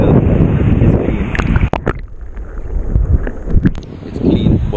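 Strong wind buffets the microphone on a Jamaican beach where the water is still rough after a hurricane, roaring in loud low gusts with sharp crackling bursts and a brief lull midway.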